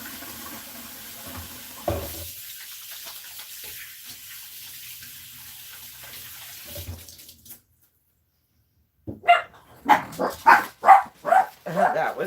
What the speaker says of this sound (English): I have the Maltese and they love to bark.